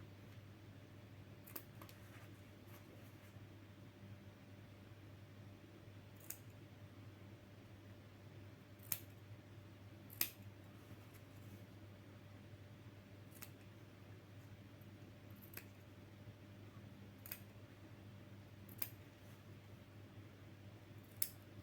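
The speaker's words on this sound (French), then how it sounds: "On crante bien. On coupe pas, surtout pas la couture." Scissors notch the seam allowance of a man's fabric tunic, giving a scattered series of sharp little snips spread over a long stretch against a steady low hum of background noise.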